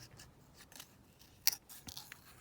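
Scissors snipping around a small paper flower cut from a journal page, with a few quiet, close cuts and one sharper snip midway.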